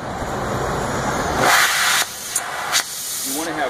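Natural gas rushing through a quartz burner head in a fabrication shop, a loud steady hiss that swells then cuts off, followed by brief sharp bursts, with a voice talking over it.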